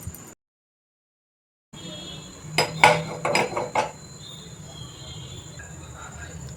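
Ground ridge gourd peel chutney is scraped and moved into another vessel, with a short cluster of metallic clinks and scraping from a steel grinder jar and spoon amid low kitchen background noise.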